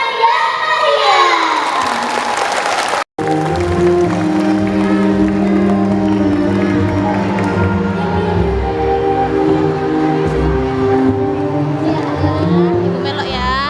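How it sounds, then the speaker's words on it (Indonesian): A school anniversary crowd cheers and applauds after a Palembang Tanggai dance, with loud children's shouts and voices. The noise holds steady throughout, and a brief gap near the start breaks it. "Beri tepuk tangan yang meriah."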